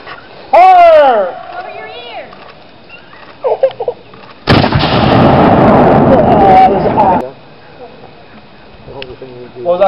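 A historic gun volley fired on command at Fort Frederick: one loud, sustained blast rolls on for about three seconds. Shouted commands and other voices come before it, and more voices follow after.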